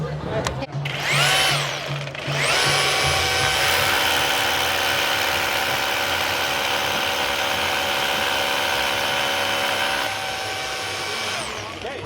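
A Bosch power tool with a built-in dust vacuum motor revs up with a whining vacuum sound, runs loud and steady for several seconds, then winds down near the end.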